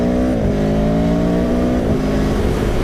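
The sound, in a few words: 2017 Aprilia Tuono motorcycle riding, quick shifter gear changes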